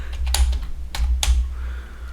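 Computer keyboard typing programming code, several quick close key clicks in small bursts over a low steady room hum.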